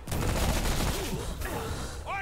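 Dense gunfire from the video game Remnant rattles in a rapid continuous burst, loud and close, tapering near the end as a voice briefly speaks over it.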